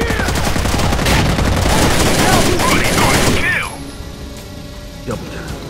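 Rapid gunfire from a Rainbow Six Vegas firefight, loud, dense bursts of shots with clattering impacts for several seconds before cutting off, with a few faint later sounds.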